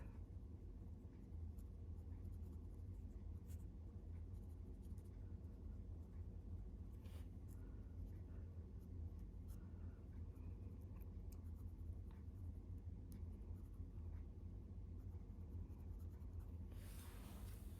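A marker coloring around the edges of flowers on ribbon for sublimation, soft scratchy strokes across the surface, close and quiet over low background rumble, with a brief rustle at the end.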